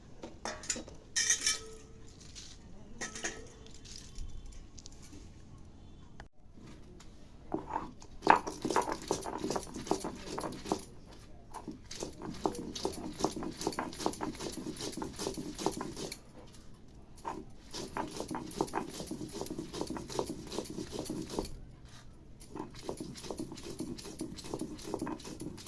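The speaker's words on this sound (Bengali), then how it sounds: "এবার আবার এটাকে একসাথে বেটে নেব।" Spices, mustard seeds and garlic are ground by hand on a stone for a Bengali egg dish, giving a quiet, continuous rhythmic scraping and grinding with occasional knocks, close by.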